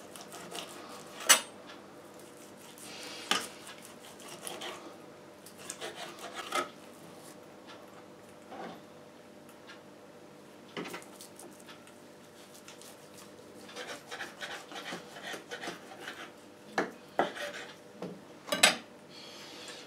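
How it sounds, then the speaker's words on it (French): A knife slices pork into thin slices on a wooden board, with repeated soft rasping cuts and occasional sharper clicks against the board, close and fairly quiet, with no talking. "De le couper en tranches, comme on ferait pour un roast beef."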